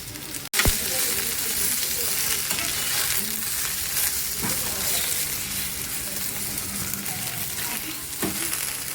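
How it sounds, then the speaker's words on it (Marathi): Stuffed brinjal frying in a covered pan, part of a Maharashtrian meal with okra: a constant close sizzle and hiss that runs throughout, opening with one sharp clack and ending with faint soft knocks. "आता मस्तपैकी ह्याला आहे ना छान फ्राय होऊन द्यायचं वांग्याला"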